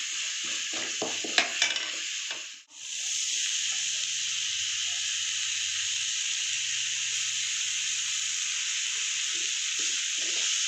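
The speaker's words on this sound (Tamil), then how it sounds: "இஞ்சி பூண்டு பேஸ்ட்டு கொஞ்சம் போட்டு அந்த பச்சை வாடை போகிற அளவு நல்லா வதக்கணும்" Ginger garlic paste is sautéed in a hot pan, sizzling with a steady loud hiss that runs throughout, broken by brief scraping stirs near the start and a short dip before the frying resumes.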